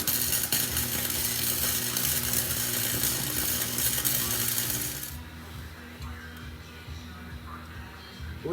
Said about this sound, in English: We can go and bring the power up to max. Now, can you weld on the same spot?